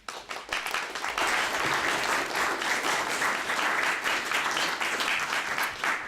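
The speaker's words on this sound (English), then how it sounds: "Let's give one more round of applause for our speakers." Applause from a conference audience for a panel of speakers on feeding Mars, a dense, loud clapping that builds quickly and holds steady to the end.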